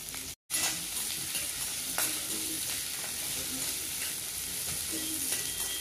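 Finely chopped onion sizzles in hot oil with mustard seeds and cumin, a steady close frying hiss with occasional stirring scrapes and a brief dropout near the start, no voices.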